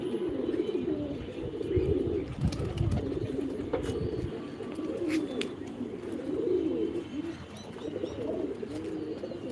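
A pet pigeon coos softly in repeated low, throaty phrases, fairly faint and close, with a few thin chirps mixed in.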